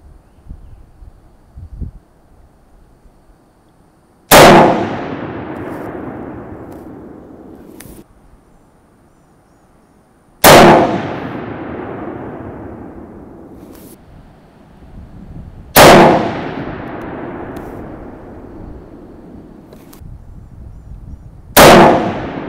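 Four loud, single rifle shots ring out from an 1885 rifle fitted with a new barrel, spaced several seconds apart, each sharp crack trailing into a long rolling echo outdoors.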